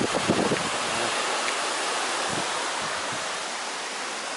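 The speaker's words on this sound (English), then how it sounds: "There's the nice little waterfall there, the Avon Artro again." Small mountain waterfall on the Afon Artro in Cwm Bychan, Wales, gives a steady broad rushing roar of falling water, fairly loud and continuous, with no talk over it.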